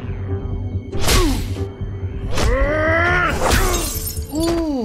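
Glass shatters in The Wolf Among Us video game: several loud crashing breaks spaced a second or so apart, mixed with groaning game voices and whooshing blows.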